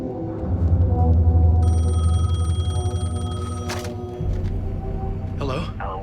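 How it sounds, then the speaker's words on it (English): A telephone rings in a repeated bell pattern in the game Alan Wake 2, heard close and fairly loud over a low droning background, stopping partway through before a voice speaks briefly near the end. "phone was ringing"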